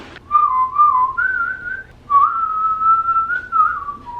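Someone whistles a wandering tune up close, with sustained notes, short pauses between phrases, and a faint hum of background noise.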